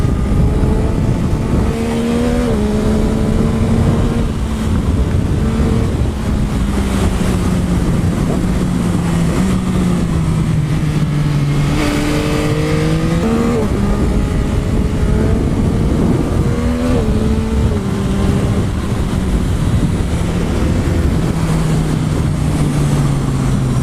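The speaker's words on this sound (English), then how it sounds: "You can't talk about this bike without talking about the motor." The engine of a 2021 Yamaha MT-09 SP motorcycle rises and falls through repeated loud, close revs and gear changes with a steady growl underneath.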